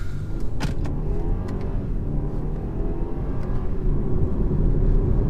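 A 2019 BMW 320i engine drones and builds steadily as the car accelerates hard from a launch, heard from inside the cabin, a dense continuous rumble with a few faint clicks early on.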